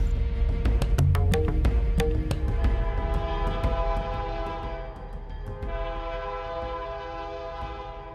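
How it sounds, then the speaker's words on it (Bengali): A train approaching sounds a long, sustained horn over a rapid run of clacking wheels on rails, and the rumble eases slightly as the horn holds, with no talk. "ট্রেন আসছে বুঝলি"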